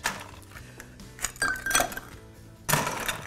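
Ice cubes clink and rattle into a glass holding gin for a Tom Collins cocktail, several quick close bursts of tumbling ice separated by brief pauses, with no talking.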